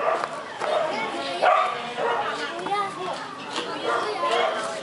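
Several dogs barking and yipping excitedly up close, mixed with lively children's voices talking and playing over them.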